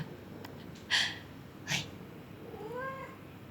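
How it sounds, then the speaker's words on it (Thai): House cat at night, two short sharp snorts or chirps followed by a soft, drawn-out meow, quiet and close in a still room. "แมวดีดค่ะแมวดีด"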